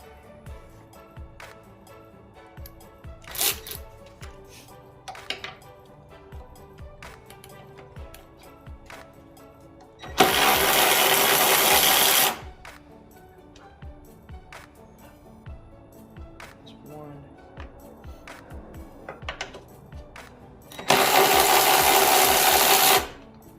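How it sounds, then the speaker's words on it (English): A cordless ratchet tightens a strut bar on a 2015 Lexus RC 350, with two loud, steady buzzing bursts of about two seconds each, separated by quieter clicks and handling noise with no talking. "I got my cordless ratchet and my Allen key to do some tightening right there"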